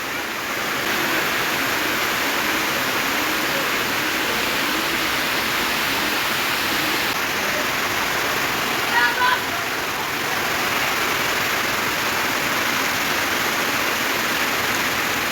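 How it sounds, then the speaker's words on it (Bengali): Heavy rain falls in a steady, dense wash of noise that never lets up, loud and close, on a rainy evening around seven. "এমন বৃষ্টি আসছে, খুব ভালো লাগতেছে।"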